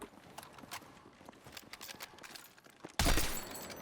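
Sniper rifle shots in the Battlefield 6 test range, taking headshot after headshot on a target: a few sharp, fairly soft cracks, then one much louder, fuller blast near the end.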